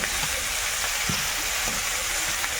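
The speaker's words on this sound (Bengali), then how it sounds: "এটাকে এখন একটু ভালো করে ভাজতে হবে" Food frying with turmeric, salt and green chilli gives off a continuous close sizzle with faint stirring scrapes, alone without talk.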